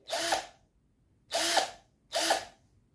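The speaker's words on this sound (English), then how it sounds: "that's the drill" A Deko 20V cordless drill whirs in three short bursts, each about half a second, separated by pauses; close and clear with no talking.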